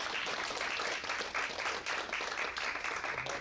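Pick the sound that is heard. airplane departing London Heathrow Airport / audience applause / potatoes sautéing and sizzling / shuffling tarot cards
audience applause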